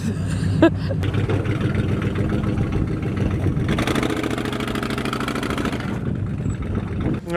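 An off-road vehicle engine running in rough terrain near Manglisi, with weak torque and a failing engine, a steady close rumble with slight revving, a brief squeak near the start and faint voices.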